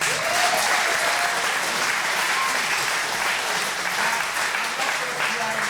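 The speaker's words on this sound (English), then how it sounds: "A massive, another round of applause." A large audience at the Milligan Cup 2025 gives a dense, continuous round of applause that stays loud and even from start to finish.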